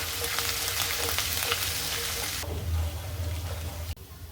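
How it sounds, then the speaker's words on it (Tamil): Chopped garlic and ginger frying in hot oil, a loud continuous sizzle that abruptly drops to a quieter hiss partway through, ending with a brief clunk. "எண்ணெய் சூடானதுக்கப்புறம் இதில் சாப் பண்ணி வச்சுருக்கிற பூண்டை சேர்த்துக்கிறேங்க."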